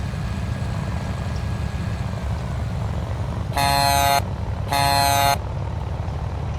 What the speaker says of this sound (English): And a nice generic horn